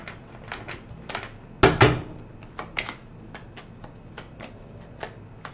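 Tarot cards are shuffled with quick papery riffles and taps, one louder flurry in the middle, close and fairly quiet.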